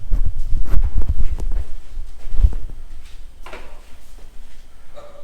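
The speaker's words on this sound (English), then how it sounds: "Oh, I hear footsteps." Footsteps thud heavily across a floor inside a home on a New Year's morning, a run of loud, irregular low impacts in the first half, thinning to softer scattered steps and small knocks near the end.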